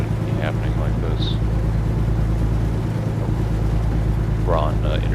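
A truck engine in 10th gear holds about 1,200 RPM at 50 mph on an interstate, a loud steady low drone and road rumble filling the cab, with faint voices briefly over it.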